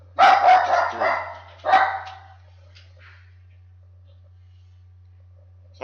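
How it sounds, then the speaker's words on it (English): A dog barks loudly nearby, a quick cluster of barks followed by one more, then near-silence with a low steady hum underneath; a voice speaks briefly over the barking. "Sorry, that was my dog."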